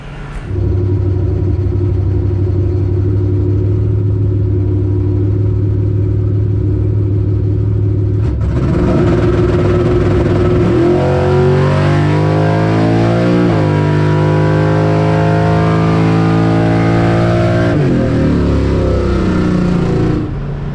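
Race car engines at a Mokan racing event, round 6, a sustained loud droning rumble that shifts into rising and falling revs partway through as the cars accelerate, with no talk.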